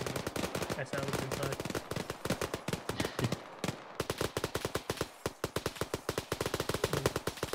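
Rapid gunfire in the ArmA 3 military video game: dense, loud bursts of automatic fire with sharp repeated cracks, barely pausing, and a voice talks briefly over them.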